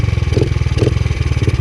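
A dirt bike engine revs on a trail with a fast, steady pulsing rumble and a few surging swells. It is close, loud and heard alone.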